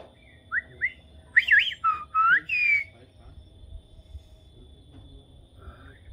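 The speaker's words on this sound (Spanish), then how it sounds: "Uy, sí se oyen los pájaros." Birds sing at night on a ranch: a short run of clear, sliding whistled chirps close by, followed by quieter calls over a low background hum.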